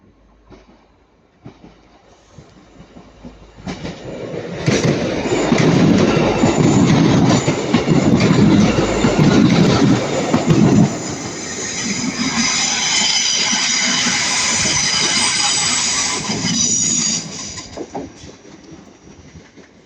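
A Northern Class 150 diesel multiple unit passes at Ardwick, rising from quiet into a loud rumble with rhythmic wheel clatter over the rail joints and some squeal, then fading away.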